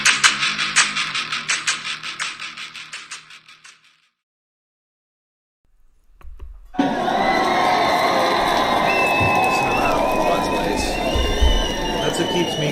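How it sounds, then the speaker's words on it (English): A large crowd cheers and shouts loudly and steadily, with whoops and children's voices mixed in. It follows a short stretch of near silence that comes after some rhythmic noise. "Is that crowd?"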